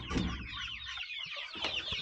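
Several chickens cluck and chatter together at close range, a busy overlapping mix of short calls with a brief quieter moment in between.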